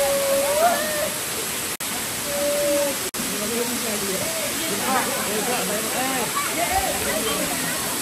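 A waterfall beside a temple pours with a constant hissing roar, and people's voices carry over the rushing water.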